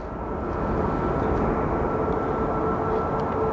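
A Boeing 737 Max 9 jet at Sky Harbor Airport gives a steady, broad engine roar with a faint whine, moderately loud and even for the whole span, no voices.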